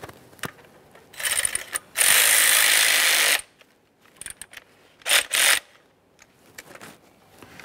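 A ratchet snugs down the rear valve cover bolts on a 2007-2013 Acura MDX 3.7L V6, giving a long, loud buzzing run, then short clicking bursts with brief tool clinks between them.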